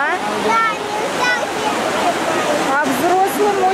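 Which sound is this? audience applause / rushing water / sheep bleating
rushing water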